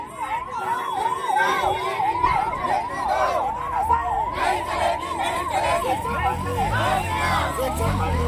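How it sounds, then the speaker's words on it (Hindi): An ambulance siren wails in rapid repeating sweeps amid a protest crowd's noisy chatter and shouting at a hunger strike, the siren loud and near. "अब जाके आई है एम्बुलेंस, देख सकते हैं आप।"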